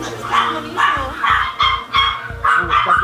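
Several puppies at an illegal dog-breeding operation bark and yip loudly and repeatedly in short, close bursts, a few steady yelps with brief whimpers between them.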